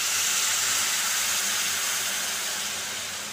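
Water poured into a hot pan of spiced, masala-coated potatoes sizzles and hisses loudly, then slowly fades as the steam settles, with no talking.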